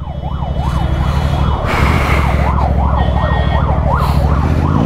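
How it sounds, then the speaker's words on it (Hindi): Ambulance stuck in heavy traffic in the NCR, its wailing siren rising and falling repeatedly, loud and close over rumbling engines and horns. "एम्बुलेंस है"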